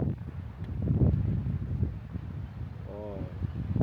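Strong wind buffeting the microphone at the Red Bluff clifftop lookout in Kalbarri National Park, gusty low roaring rumble rising and falling, with people talking over it.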